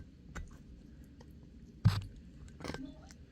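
A sulcata tortoise crunches and grinds food with its beak, giving a few sharp, close crunches spaced apart over a quiet background with faint rustling.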